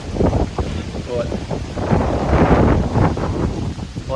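Strong wind gusting across a river, a loud, rough rumbling roar of buffeting against the microphone that swells and surges throughout.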